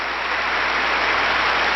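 A concert audience keeps up dense, steady applause after the Philadelphia Orchestra's performance of Tchaikovsky's 1812 Overture, a loud, even wash of clapping with no break.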